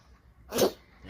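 A dog gives a single harsh, burst-like cough at close range, a sharp spray of noise lasting about a quarter second amid quiet room background.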